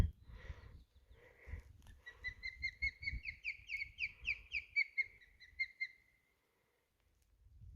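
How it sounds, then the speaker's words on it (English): A young bird calls in a rapid series of high, repeated cheeping notes, fairly close, then stops, leaving near silence with low rustling beneath. "I was thinking that was like the baby bird calling for mom to come back and feed it."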